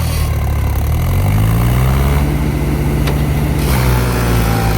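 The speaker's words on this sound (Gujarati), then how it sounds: "જુઓ જીસીબી તો ટ્રેક્ટર કેટલું તાણ કરે." A JCB excavator and a tractor run together as the JCB pulls the stuck tractor free, their heavy diesel engines rumbling steadily and loud at close range, with no talk over them.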